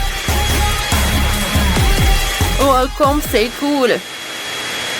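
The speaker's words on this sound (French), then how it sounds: "je vais le faire fondre avec un sèche-cheveux" A hair dryer blows steadily on chocolate in bowls during a kids' cooking challenge, a continuous broadband whoosh running under lively French chatter for about four seconds before dropping away.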